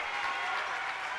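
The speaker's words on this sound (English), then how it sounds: "The crowd is going nuts here at the MAC" A home basketball crowd at the MAC arena roars and applauds in a steady, dense wash of cheering during a Mount Union versus Baldwin Wallace men's game, loud and continuous throughout.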